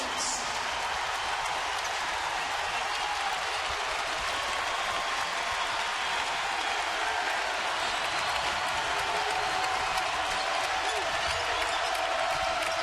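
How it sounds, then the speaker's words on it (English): Basketball arena crowd roaring during a Butler versus Providence game, a steady dense wash of cheering and noise filling the whole stretch, loud and continuous without clear breaks. "Providence now has to calm that crowd down"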